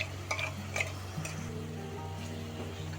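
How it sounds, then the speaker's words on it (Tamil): Egg biryani masala sautéing after a yogurt mixture goes in, with a steady close sizzle and a few sharp spoon scrapes and clinks against the pot early on. "இப்போ அந்த கலவையை சேர்த்து நல்லா வதங்கட்டும்"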